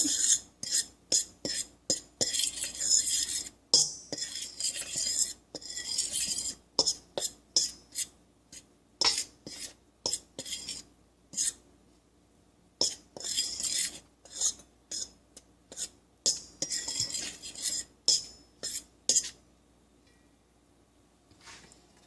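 A utensil stirs vegan dumpling soup ingredients, including nutritional yeast, in a bowl with rapid rhythmic scraping strokes in quick bursts and brief pauses, close and alone without talk.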